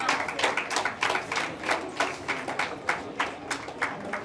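An audience claps steadily for an award winner at an Ayurveda Day award function, a dense run of overlapping claps with a pulsing rhythm that continues throughout at moderate loudness.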